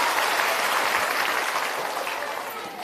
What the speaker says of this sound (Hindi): एक बार जोरदार ताली बजाइए आदरणीय प्रधान जी को